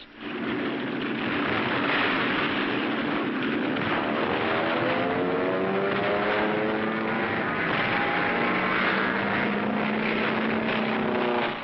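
Steady roar of World War II military aircraft engines at the Battle of Tarawa throughout, with a droning propeller hum and shifting whine as planes pass, loud and continuous with no talking.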